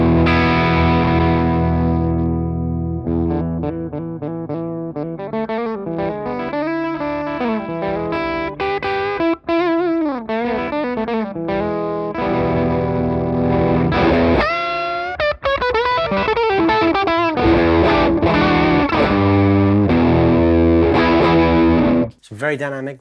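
An electric guitar played through a Chevtone Messiah Drive overdrive pedal, with the guitar volume rolled back, produces a continuous stretch of chords and lead lines with a dynamic, cleaned-up crunch and no talking over it.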